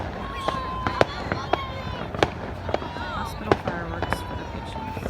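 July 4th fireworks for hospital patients burst at a distance in irregular sharp pops and crackles, with voices talking and reacting throughout.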